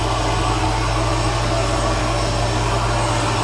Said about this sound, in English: Vacuum toilets. And they are terrible toilets.